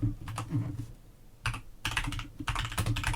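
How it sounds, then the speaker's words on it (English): Fast, forceful typing on a computer keyboard, with dense bursts of sharp clacking keystrokes separated by short pauses, close and loud, with no voices. "it's faster than I can loudly, aggressively type on a keyboard."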